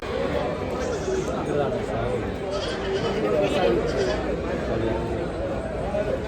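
Goats bleating amid a dense crowd murmur at a large livestock market in Maharashtra, with many voices talking at once in a busy, noisy open space.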